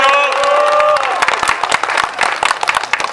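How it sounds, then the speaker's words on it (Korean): A street rally crowd applauding for construction workers, a dense burst of clapping that follows a fading amplified tone and carries on to the end. "우리 건설 노동자 우리 동지들 열심히 싸우시라고 한번 큰 박수 한번 다시 한번 쳐주셨으면 좋겠습니다"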